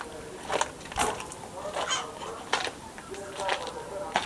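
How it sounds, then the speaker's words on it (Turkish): Frightened chickens in a coop give a few short, sharp squawks and honk-like calls, spread out and moderately near over faint background noise. "Ay yazık korktular tavuklar."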